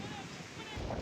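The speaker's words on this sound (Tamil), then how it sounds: "காற்று வேறு அதிகமாக அடிக்குது." Strong wind buffets the microphone at an outdoor cricket ground during a tournament match, a loud, continuous roaring rumble with no breaks.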